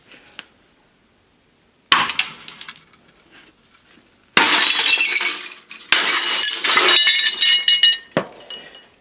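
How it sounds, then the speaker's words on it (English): An old cathode ray tube imploding and its thick glass shattering: after a quiet start, sudden bursts of crashing, tinkling glass follow one another, then fragments clink and settle, close and loud. "Don't do this because it'll implode and shower you with glass."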